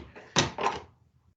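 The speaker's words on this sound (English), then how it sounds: "We'll go ahead and open it up and check them out." Lid of an Instant Pot pressure cooker being opened after cooking sweet potatoes, two quick close clunks and rattles of the lid, then near silence.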